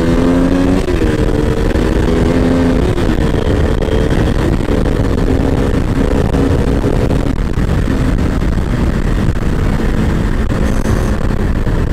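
Small RC car motor whining and revving loudly and continuously across slippery muddy, pothole-strewn ground on a cold day, with pitch rising and falling as it drives, no talking.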